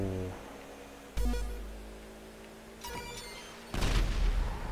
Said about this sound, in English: Oh, rockets, rockets.